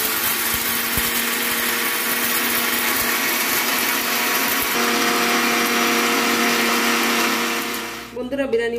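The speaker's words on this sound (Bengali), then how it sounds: "এখন আমি এগুলোকে মিক্সিতে গুঁড়ো করে নেব" A mixer grinder blends roasted biryani spices into powder, running as a loud steady whine that holds for about eight seconds and then cuts off abruptly, leaving a brief rattle as the jar settles.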